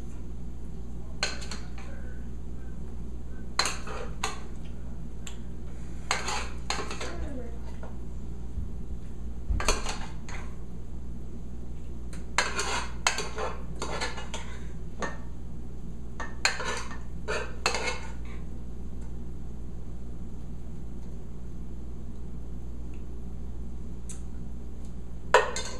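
Pasta mix being stirred in a pot, heard as clusters of scraping, clinking utensil strokes against the cookware over a steady low hum, with pauses between bursts and no talking.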